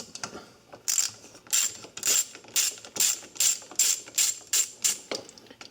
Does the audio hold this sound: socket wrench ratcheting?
yes